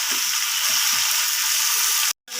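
Tomato pieces for Andhra-style tomato pickle fry in a pan with a steady, loud hiss of sizzling oil and faint stirring scrapes underneath. The sizzle cuts out abruptly for a moment near the end.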